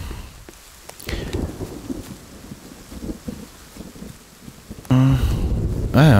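Steady rain with rumbling, thunder-like low noise in the forest survival game The Forest, a dense continuous wash broken near the end by a loud tonal game sound.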